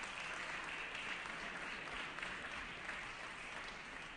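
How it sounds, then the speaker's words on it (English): Members in a legislative assembly chamber applaud, producing a continuous, even wash of clapping heard faintly and from some distance. "Give them a round of applause."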